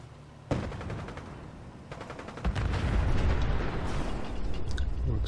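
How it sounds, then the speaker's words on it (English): Gunfire and explosions in the video game Fallout 4, with bursts of rapid repeated shots over a rumbling backdrop of blasts that builds into a sustained, loud barrage. "More explosions."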